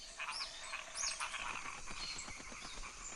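Small frogs croak in a rapid run of short, pulsing calls, with birdlike chirps and a steady hiss of wild background noise.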